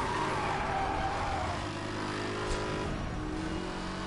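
A Mercedes AMG races in Need for Speed: Hot Pursuit Remastered, its engine droning steadily with a shifting pitch and faint tire noise underneath, loud and continuous throughout.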